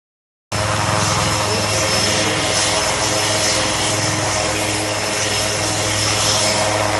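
Coast guard helicopter on a fishermen rescue, its rotor and engine roar loud and steady throughout with a constant low drone, starting abruptly after a brief silence.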